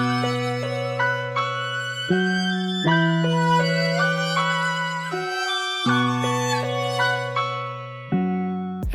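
Layered sample with violin, pitched up a full octave into a bright ambience layer, playing sustained melodic notes and chord changes at a steady, even level with no voices.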